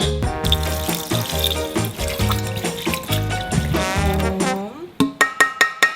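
Water runs and splashes in a sink while beef tripe is rinsed clean, a steady close gush with shifting tones, ending in a few sharp drips or knocks.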